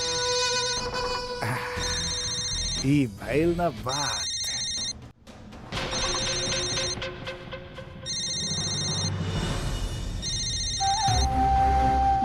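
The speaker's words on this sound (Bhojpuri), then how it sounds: "बजे गए फोन के।" A phone ringtone repeats in short, regular melodic bursts, near and clear, while people talk between and over the rings.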